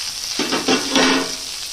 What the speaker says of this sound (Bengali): সবজিটাকে আমি এবার নাড়িয়ে নেবো।